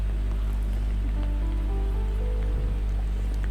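Rain falls steadily at the Citamiang campground in Puncak Bogor, where water also flows over large rocks. It makes a continuous, even hiss of close, dense drops with a low rumble beneath and no voices.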